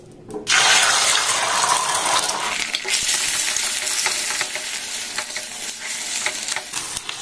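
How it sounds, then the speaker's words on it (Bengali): Two eggs hit hot mustard oil in a pan over a low flame and fry into a loud, steady, close hiss. Scraping stir strokes break them up as the sizzle continues throughout, with no talking. "গ্যাসের ফ্লেমটাকে লো দিয়ে ডিমটাকে দেখুন আমি একটু ঝুড়ো ঝুড়ো করে ভেজে নিচ্ছি"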